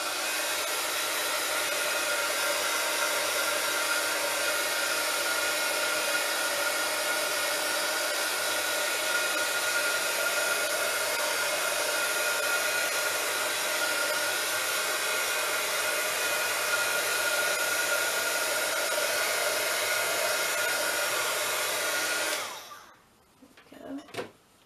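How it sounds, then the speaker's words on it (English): A heat gun blows steadily on a paper envelope, a loud, constant whooshing hum that runs unbroken for over twenty seconds before cutting off, followed by a few faint clicks. "Give it a quick blast with my heat gun."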